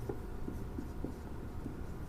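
Chalk or marker scratches across a classroom board during a physics lecture, a handful of faint short strokes in an uneven rhythm over low room hum, with no voice heard.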